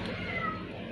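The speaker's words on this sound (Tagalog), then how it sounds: "Meow. Pati pusa dito nagsisimba." A cat meows once, close and clear, at a church on a Sunday.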